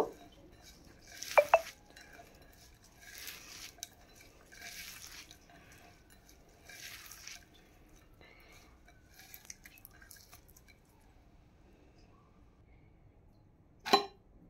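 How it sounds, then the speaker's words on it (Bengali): Chopped onion and green chili are squeezed and mixed by hand with salt, producing soft, moist squelching and rustling in short repeated bursts. The sounds are quiet and close, ending with a sharper clatter. "আমি পেঁয়াজ আর মরিচ একসাথে মাখিয়ে নিতেছি"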